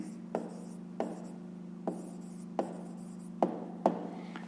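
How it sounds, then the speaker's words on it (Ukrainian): A pen writes an answer into a maths exercise book, soft scratchy strokes with six sharper taps spaced irregularly, close and alone over a steady low background hum. "записуємо відповідь до другого завдання, пишемо відповідь"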